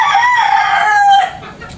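A native hen makes a short, loud, close-up call with a rising, drawn-out tone, heard alone with no talking.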